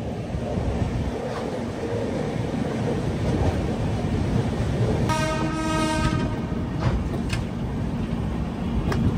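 A train rumbles steadily into platform 2 at Eluru station, its horn sounding one long blast partway through amid constant rolling noise.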